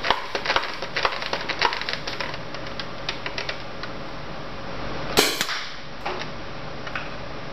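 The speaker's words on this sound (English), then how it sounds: "Saw the dart hit the end and it bounced all the way back here" A modded Vortex Tornado blaster fires a dart that strikes the far end and bounces back, heard as a run of sharp plastic clicks and snaps, then one louder cracking burst partway through, followed by a few lighter taps.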